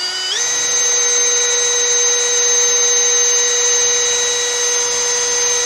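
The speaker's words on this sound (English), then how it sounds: "Then I'm going to take the drill" A power drill bores through plastic at a factory hole, holding a loud, steady high-pitched whine that steps up in pitch early on and then runs continuously without pause.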